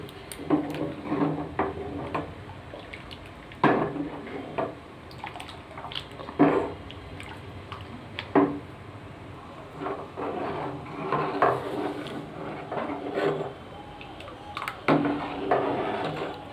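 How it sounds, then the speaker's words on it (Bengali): Rice flour batter being stirred into hot water in a cooking pot, with scattered knocks and scrapes of the spoon against the pot and soft liquid sloshing in an uneven rhythm. "এবারে আমি এই যে গুলে রেখেছিলাম যেটা সেটা এর মধ্যে দিয়ে আমি ভালো করে এখন নাড়তে থাকবো"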